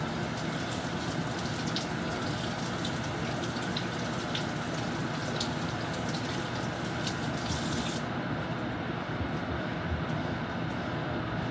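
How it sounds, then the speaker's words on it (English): Okra being rinsed under running water in an outdoor Jamaican yard kitchen, a steady hiss of flowing water with small splashes, continuous and moderately close, with no talking. "Make sure I wash these okra properly."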